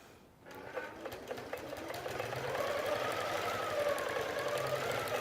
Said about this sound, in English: so now it's just going to finish sewing to the next step